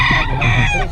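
Chickens and roosters cluck and crow loudly at close range in a busy poultry market, a dense overlapping chorus with a faint murmur of people nearby.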